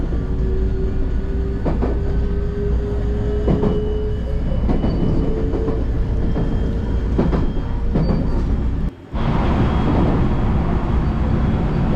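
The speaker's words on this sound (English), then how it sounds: "And we're on the Special Rapid out of Shinosaka." A JR Special Rapid train runs out of Shin-Osaka, heard from inside as a loud, continuous rumble with rhythmic rail clicks, a faint whine and a sudden brief dip before the roar resumes.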